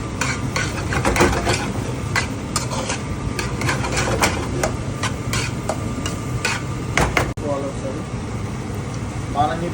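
Eggs stirred and frying in oil in a pan for egg bhurji, with steady sizzling and repeated scraping of a utensil throughout, a voice talking over it.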